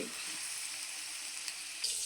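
Cucumber pieces sizzle steadily in hot oil in a pan, a continuous close frying hiss that holds for the whole stretch with only small pops and a brief stir near the end. No one speaks.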